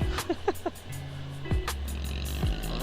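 A motorcycle with an aftermarket muffler goes by on the road, its exhaust rising then falling in pitch, with a few short revs before a steady engine drone as a second pass sweeps past, under faint wind noise.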